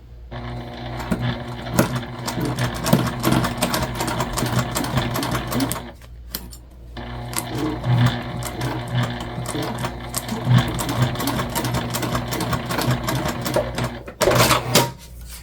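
A sewing machine stitches a backpack lining seam, running in steady, fast bursts. It stops briefly twice, then whirs on again, close and clear, with no talking.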